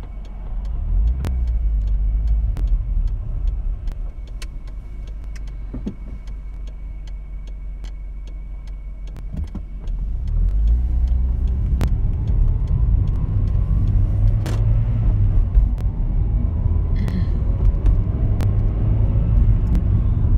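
A car drives through the Cotswolds countryside in mist and fog, its engine and tyre rumble a steady, loud drone throughout, with occasional ticks and a slight rise in road noise midway.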